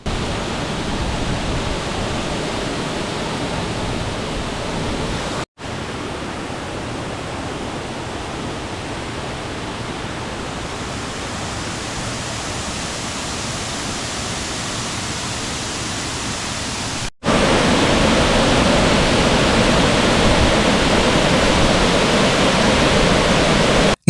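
Anayadikuth waterfall pours between two hills in a steady, loud broadband roar of falling water that runs unbroken throughout, with no voices.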